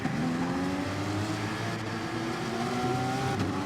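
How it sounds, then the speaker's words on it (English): Race cars revving together on the grid at Bathurst's Mount Panorama circuit in a racing video game, a dense steady engine drone that rises as the start nears, with no voices. "So the revs are rising, waiting for the start,"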